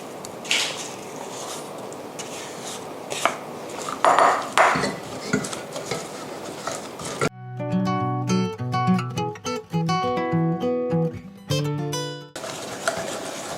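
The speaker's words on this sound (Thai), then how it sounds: "ก็คนให้มันละลายเข้ากันดีแล้วเราถึงเปิดไฟตั้งเคี่ยวนะคะ" A mixture being stirred in a pot to dissolve before simmering, with clinks and scrapes of a spoon against metal in irregular bursts, interrupted midway by a stretch of music.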